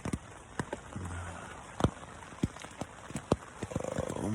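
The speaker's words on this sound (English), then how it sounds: "It's pouring down rain." Rain pours on a tent on the Appalachian Trail during a thru-hike, a steady patter with repeated sharp, irregular drops striking the fabric nearby.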